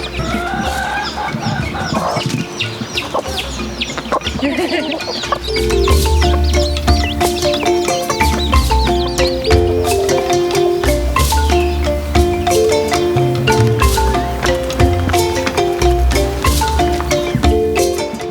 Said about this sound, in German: Da ist nochmal eine Hühnerfamilie. Ja, Hühner.